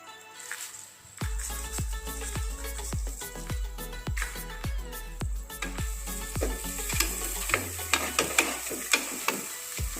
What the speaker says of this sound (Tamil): கல்லுப்பு சேர்த்துட்டு நல்லா கொதிச்சோன்னா ஆஃப் பண்ணி இறக்கிடலாம்.